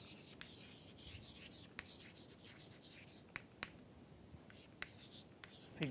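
Handwriting during a lecture: soft, faint scratching strokes with scattered small taps, close and quiet, with no one speaking.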